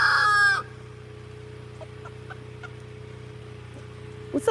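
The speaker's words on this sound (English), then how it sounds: "Come on, chickens." Backyard chickens with a rooster, one loud crow at the start and then a quiet stretch of scattered soft clucks and faint calls, ending on a couple of sharper nearby clucks.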